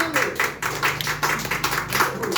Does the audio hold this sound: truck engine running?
no